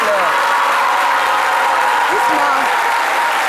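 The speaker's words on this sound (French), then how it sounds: "Les jeunes, applaudissez pour les téléspectateurs" Young studio audience on a live midday television show applauding, a steady loud wash of clapping with voices calling out over it.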